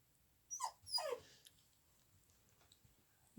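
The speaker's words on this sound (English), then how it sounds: "Don't mind my puppy Dante." A puppy whimpers and growls in two short close bursts of high, whining vocalization near the start, then quiet, with a low sound at the very end.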